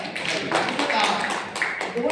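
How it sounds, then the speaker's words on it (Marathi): Audience applause at a closing ceremony of a book festival in Gadchiroli, a dense, steady patter of many hands clapping throughout, fairly loud and continuous. "याचे जोरदार पुन्हा एकदा अभिनंदन टाळ्या वाजवा"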